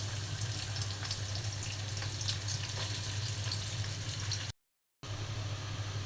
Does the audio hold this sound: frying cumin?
yes